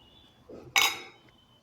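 A spoon clinks briefly against a bowl while sweet potato chaat is mixed with salt and cumin powder, one short metallic scrape-and-clink burst in a quiet kitchen.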